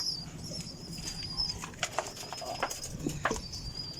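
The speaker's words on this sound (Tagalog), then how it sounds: "Kunin ko lang mga kalapatids." Pigeons kept as pet birds give soft wing flaps and low coos amid a busy background, with a thin steady tone running throughout; the sounds are moderately close and mixed with rustling.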